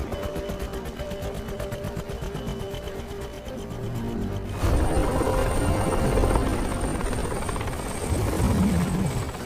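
A helicopter flies over a mountain, its rotor chopping in a fast regular pulse, then the sound turns broader and louder as wind and engine noise take over.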